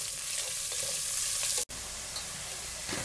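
Chopped calabresa sausage with its skin removed and bacon frying in a pan for a home-style bean recipe: a steady, close sizzle that runs throughout, broken by a very brief drop near the middle, with no talk.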